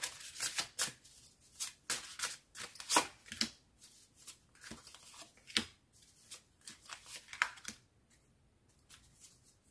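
Tarot cards being shuffled for a reading, heard as quick bursts of crisp riffling and slapping, close and fairly quiet, coming in uneven clusters before fading to near silence at the end.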